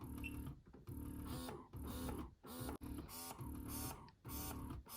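A Vital Baby electric breast pump runs at raised suction, its motor pulsing in a steady repeating cycle of roughly one stroke per second, close and fairly quiet with no talking.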